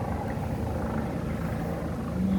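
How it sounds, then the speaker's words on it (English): Steady outdoor rumble of a helicopter overhead mixed with passing car traffic, a continuous dull drone with no pauses. "So there's a lot of noise out here today. Like, wow. The helicopters and the cars."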